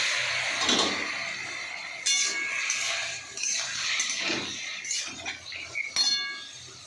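Vegetables are tipped into a pan of fried spice paste, bringing a scattered run of metallic clinks and scrapes from cookware and utensils. The sounds are faint and close, in uneven bursts, with no talking.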